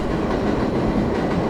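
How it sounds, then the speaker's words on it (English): A train rolling past in the Roblox game Terminal Escape Rooms, a dense, steady rumble and rattle of wheels on track, loud and continuous with no talking. "The trains in the background"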